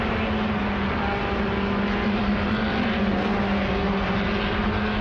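Formula race cars in the MRF Challenge at Chennai drone past in a steady engine roar, a sustained tonal whine held evenly at moderate distance with no voices.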